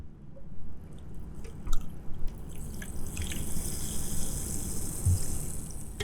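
Soda fizzes and hisses steadily as it is poured into a cup, a continuous close bubbling crackle with small drips and splashes mixed in.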